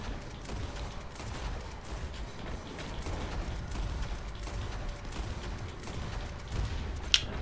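Gunfire in the Red Dead Online survival mode as an enemy soaks up round after round: a dense, continuous rattle of shots with a sharper crack near the end, steady and fairly loud.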